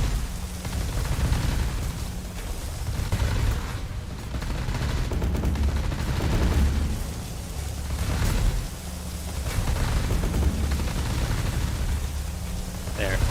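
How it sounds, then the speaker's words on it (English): Ship weapons fire in the space strategy game Sins of a Solar Empire 2, a dense, continuous rumble of volleys and blasts rolling in loud waves across the whole stretch, with no talk over it. "Nice calm shooting in the morning"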